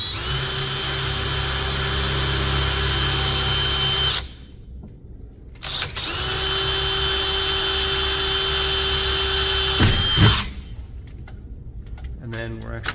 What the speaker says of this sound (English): go ahead and pre-drill this hole